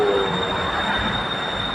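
BTS Skytrain Silom Line train at platform 3 of Saphan Taksin station in Bangkok, a steady close rumble with a high sustained wheel or motor whine, no talking.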